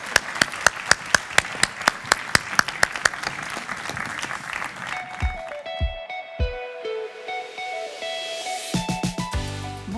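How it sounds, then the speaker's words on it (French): Audience at a ceremony breaks into loud, sustained applause with sharp rhythmic clapping that fades after a few seconds into scattered low crowd murmur and shuffling. "On peut les applaudir une dernière fois,"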